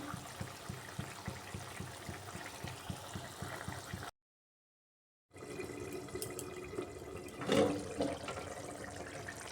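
Potatoes simmer in a pot for a fish-head kanta chorchori with soft, rhythmic bubbling. After a brief silent break, quieter bubbling returns with one short louder rustle, faint and close.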